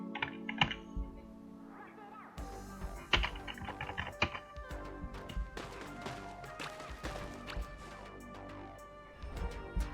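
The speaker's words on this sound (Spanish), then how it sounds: "No, otra vez el teclado." Rapid computer keyboard typing with uneven bursts of sharp key clacks and heavier thunks, loud and close, running throughout while a player works through the game Sky: Children of the Light.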